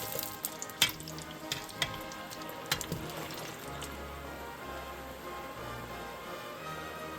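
Fries bubbling and sizzling in hot oil, a busy crackling hiss with scattered sharp pops early on that settles into a steady quieter fry, close by.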